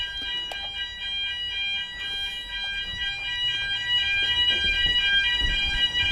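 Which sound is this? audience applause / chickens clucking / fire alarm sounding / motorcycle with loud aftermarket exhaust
fire alarm sounding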